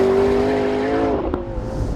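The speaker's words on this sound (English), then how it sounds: "It's quite noisy with the roof down, but you know, this is the Spider version." A McLaren 650S Spider, 641 horsepower, drives with the roof down. The engine gives a loud, close, steady tone whose pitch falls slightly before settling, with wind noise around it.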